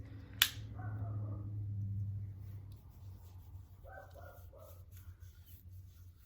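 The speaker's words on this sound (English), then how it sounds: "Sorry if you can hear my dog barking in the background." A dog barks a few times in the background, fairly faint, with a steady low hum throughout and a sharp click near the start.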